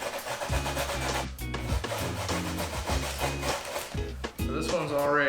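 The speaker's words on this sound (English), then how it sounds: "It's gonna take a lot of scrubbing to get all this old glue off" Stiff, steady scrubbing rasps back and forth across bare plastic interior trim to strip old upholstery glue, a rhythmic, close, dense friction sound repeating in quick strokes throughout, with no talking.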